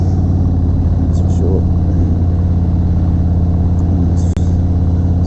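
A 2019 Harley Davidson Softail Slim motorcycle rumbles steadily at cruising speed, its low engine drone constant and close throughout, with one brief sharp click near the end.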